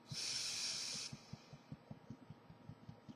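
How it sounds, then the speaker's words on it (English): A slow exhaled breath during a calming breathing exercise, a soft airy hiss for about a second, followed by quiet, faint low thumps. "Now let it out slowly."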